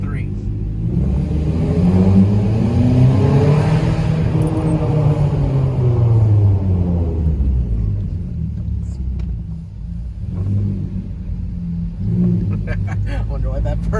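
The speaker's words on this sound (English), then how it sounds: "we are going to see how loud my car is in a shopping garage" A straight-piped Mazda 3 Skyactiv 2.0 revs loudly inside a reverberant parking garage. The exhaust note climbs and falls in one long rev, then settles into a rumbling idle with a few smaller blips.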